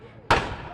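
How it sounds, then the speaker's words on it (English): A historic cannon named Thor fires a single sharp, loud blast during a Fourth of July parade in Southport, North Carolina, with the boom trailing off quickly. "And that is the big cannon that's here."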